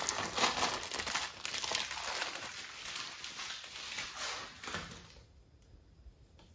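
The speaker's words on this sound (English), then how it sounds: "I'm gonna open up another pack" Crinkly packaging of a pack of plaster cloth being torn open by hand for a 1/24 scale crawler track build, with close, steady crumpling and tearing that fades out near the end.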